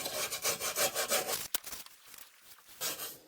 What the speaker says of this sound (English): So let's brush away.